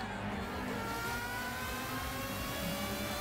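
A Honda HSV GT500 Super GT racing car's engine screams at high revs in Gran Turismo 6. It is a continuous, loud, high-pitched whine with shifting harmonics, as if the car is racing past at speed, with no talk over it.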